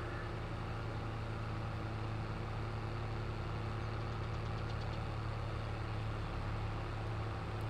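Tractor engine idling in Farming Simulator 22, a steady low mechanical drone with a faint knocking pulse, constant and close throughout with no voices.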